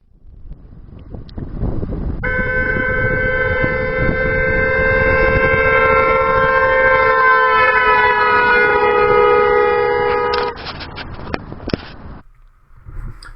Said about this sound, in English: Maybe a car horn, a police siren, a fire engine, something moving past you with a loud sound.